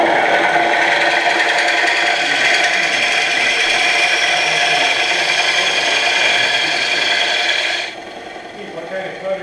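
A wood lathe spins a turned bowl while a tool shapes the tenon and evens the outside, a loud steady scraping hiss close by that cuts off abruptly near the end, with faint speech underneath.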